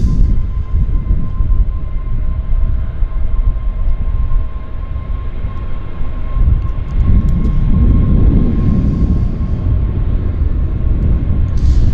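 An airliner takes off from Vancouver YVR airport as a loud, sustained low-frequency engine roar with a steady whining tone, building slightly toward the end, heard from the ground without talk.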